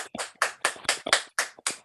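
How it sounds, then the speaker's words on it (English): During an online poetry reading, a single audience member claps about eight times at a brisk, even pace, each clap crisp and distinct over a quiet background. "Feel free to unmute yourselves and applaud all our readers."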